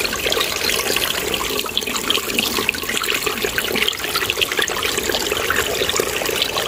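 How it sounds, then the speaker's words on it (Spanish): Spring water welling up from under stones at the source of a river, a continuous bubbling, splashing gurgle that stays steady and close throughout, with no talk. "De ahí viene la mayor parte de agua. Ven cómo brota."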